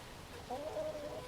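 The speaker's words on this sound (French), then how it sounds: "Voilà, ma poule, une Sussex. Sussex herminée." Light Sussex hen making a short soft clucking call, close and faint, a brief single vocalization over quiet outdoor background.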